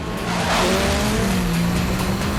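Engine roar and screeching tires from stunt cars being filmed for The Fast and the Furious, a loud continuous rev with rising and falling pitch and squealing rubber, close and sustained throughout.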